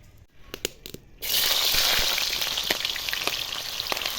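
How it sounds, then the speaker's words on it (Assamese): Chicken meat fries with onion and garlic in a kadai, a few sharp clicks giving way to a loud, steady sizzle that fills the rest of the clip, with no voices. "এইফালে পিঁয়াজ নহৰু দি দিয়াৰ পাছত এইফালে এতিয়া মাংস দি দিছোঁ"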